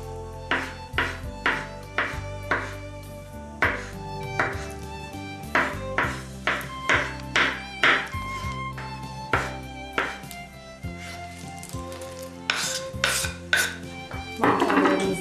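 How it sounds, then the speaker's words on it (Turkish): Knife chopping chilled mushrooms finely on a board for a mushroom salad, a steady series of sharp close taps and knocks, speeding into a quick flurry near the end. "Soğuttuğumuz mantarları da ince şekilde doğruyoruz."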